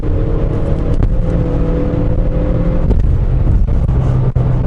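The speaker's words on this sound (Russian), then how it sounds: "машина разгоняется просто идеально" Volkswagen Polo Sedan 1.4 GT accelerating in drive mode, a loud, steady engine drone rising in pitch from inside the cabin, with road noise and a few bumps, no talking.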